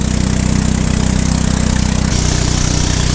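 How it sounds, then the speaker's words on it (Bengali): A river boat on the Sangu River driven by a shallow-pump irrigation engine chugs loudly and steadily, its low pulsing throb continuous throughout and shifting slightly in pitch partway through. "স্যালো মেশিনে যেহেতু চলে এই নৌকাগুলো বেশ সাউন্ড করেই চলে"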